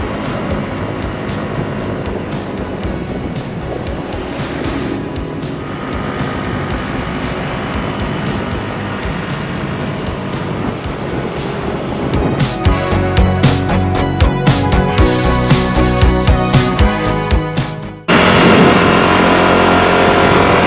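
A scooter riding along the road to Bromo volcano in Indonesia, with loud steady wind rush and engine drone throughout, turning into rough fluttering buffeting near the end.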